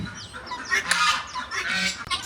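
A black silkie rooster calls and clucks in a busy, chattering mix of fowl sounds, fairly close, with no speech.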